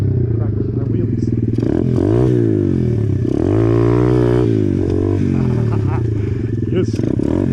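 A pit bike motorcycle rides over a soft gravel parking lot while the rider practices wheelies, its engine loud and close throughout, revving up and down in rising and falling sweeps.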